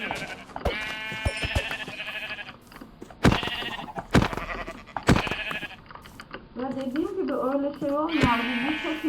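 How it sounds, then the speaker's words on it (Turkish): Blocky bleats from Minecraft sheep sound several times in a row, mixed with game noises and a person talking over them. "Koyun."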